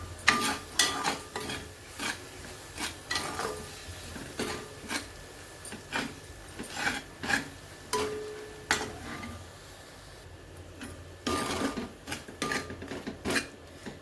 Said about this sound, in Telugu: కదుపుతూ ఉండాలండి